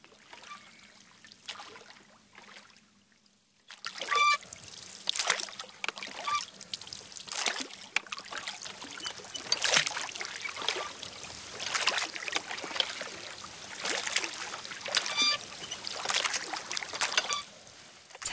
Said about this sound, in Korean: 오랜만에 노를 저어 호수로 나간다